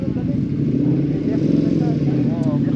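A group of parked Ducati motorcycles, Hypermotard among them, idles with a low, lumpy engine rumble and the faint metallic rattle of a dry clutch, close by and steady, with people talking over it.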